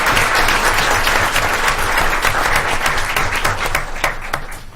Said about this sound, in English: One more round of applause for our Wilcox Rock students and teachers.